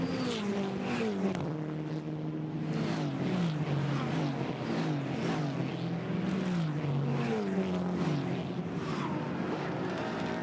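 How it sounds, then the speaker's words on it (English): GT4 race cars at the Paul Ricard circuit hammering past on the track, engines roaring at high revs with pitch sweeps as several cars pass close in continuous succession. "cars hammer past that camera"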